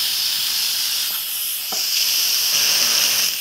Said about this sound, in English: it takes a long time to release the steam